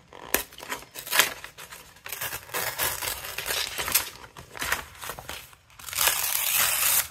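Two paper pages being torn together at once, a series of close, rasping rips and crinkles in uneven bursts, ending in a longer sustained tear.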